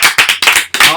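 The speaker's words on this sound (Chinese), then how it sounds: "掌声！" A short burst of clapping from a small group in a radio studio, several quick bursts of hand claps with people talking over it.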